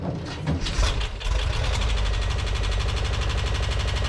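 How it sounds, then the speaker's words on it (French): A freshly restored 1978 VW Combi T2 Westfalia engine cranks briefly, catches and settles into a loud, close, steady idle with a rhythmic ticking pulse. "il est grand temps que ce moteur fraîchement restauré démarre pour la première fois"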